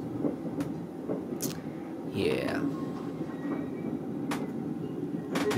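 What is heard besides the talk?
passenger train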